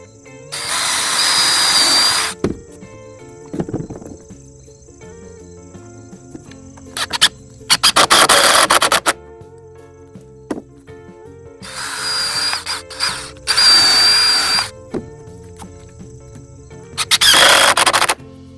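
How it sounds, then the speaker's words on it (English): A power drill bores holes and drives screws into wood while a front porch is added to a tiny home. It comes as several loud, whining bursts of a few seconds each, separated by quiet pauses. "drill 2 holes, put some screws in it"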